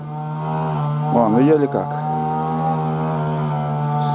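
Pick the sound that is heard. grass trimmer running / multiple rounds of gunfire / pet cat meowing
grass trimmer running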